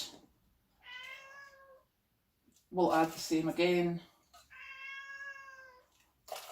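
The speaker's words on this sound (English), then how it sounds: "the cat is wanting out into the garden" A house cat meows to be let out into the garden, several drawn-out harmonic meows near the microphone, one before and one after a person talks briefly in a kitchen.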